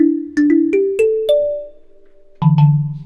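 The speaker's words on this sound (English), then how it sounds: "a lot of Afrobeats these days have a lot of karimba or bell sounds in them" Bright, plucked kalimba tones from a synth plugin step upward in a quick run of notes, then two lower notes ring out after a short pause, clean and close.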